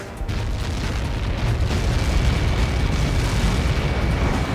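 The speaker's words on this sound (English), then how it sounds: "How many got caught in that explosion?" A huge explosion in the video game Ace Combat 7 gives a sustained, heavy rumbling roar that stays loud and dense throughout, with deep low-end boom and no speech.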